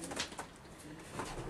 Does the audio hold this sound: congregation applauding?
no